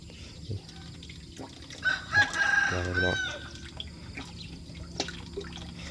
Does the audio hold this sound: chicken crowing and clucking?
yes